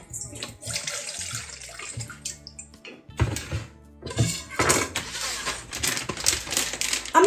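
Tomatoes washed in a bowl of water with vinegar: splashing, swishing and trickling water in uneven bursts, with a lull around the middle, close up, with no talk.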